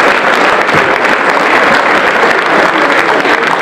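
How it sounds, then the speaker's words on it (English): Sustained applause from an audience at a formal event after an address by Jerry Rawlings, a dense, steady wash of clapping with no pauses, loud and continuous throughout. "We can keep clapping on Jerry"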